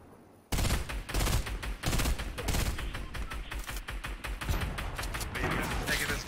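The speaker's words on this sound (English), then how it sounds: "Watch, sniper's shooting." Sniper rifle fire in the video game Fortnite comes as a series of sharp, loud, closely spaced shots that repeat over several seconds after a quiet opening, with voices talking underneath.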